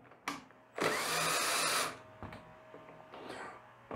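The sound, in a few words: loosening two screws on Lynus PDL-1300 thickness planer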